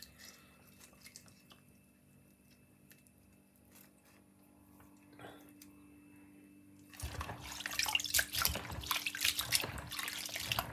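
Sea moss being washed under running water for making sea moss gel, a quiet trickle at first that turns into a louder, steady splashing stream over the last few seconds, with no talking.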